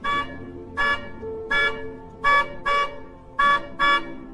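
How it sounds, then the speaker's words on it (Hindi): A car horn honks outside a house in seven short, evenly spaced blasts, loud and close, with a faint background hum between them. "घर के बाहर गाड़ी का हॉर्न बजाए जा रहे थे।"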